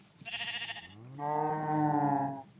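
Sheep bleat in a survival video game, one short wavering bleat followed by a longer drawn-out one, close and fairly loud with no talk over them.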